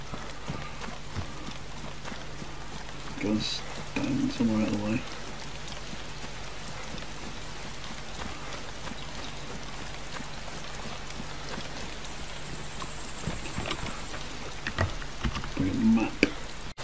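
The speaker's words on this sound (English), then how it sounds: "Oh, it's raining." Steady rain falls in the DayZ game world near the coastal town of Berezino, a constant hiss of drops on surfaces running the whole time, with a few louder bumps and brief voice sounds breaking through now and then.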